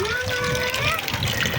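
Water is poured out onto the floor for cleaning, making a steady splashing gush close by, with a faint voice in the background.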